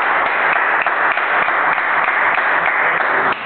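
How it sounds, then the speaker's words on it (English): Steady, dense applause from a studio audience at a university talk show welcoming a guest, loud and continuous for the whole stretch, with no voices over it. "Big round of applause"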